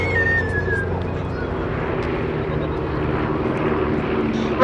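A formation of three Chipmunk propeller aircraft passes along the crowd line at an airshow, a steady droning engine hum with a faint whistle, moderately loud and sustained throughout.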